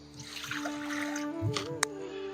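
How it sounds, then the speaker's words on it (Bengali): A bowl of water pours into a kadai wok during suji bhapa pitha cooking, a soft splashing trickle over steady kitchen hum with one sharp clink near the end. "1 বাটি জল দিয়ে দিলাম।"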